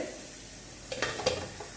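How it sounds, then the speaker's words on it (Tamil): Steady soft bubbling and hiss of water on the boil for cooking sweet potatoes, with a few light clinks of a pot or lid near the end. "தண்ணி நல்லா கொதிக்குது"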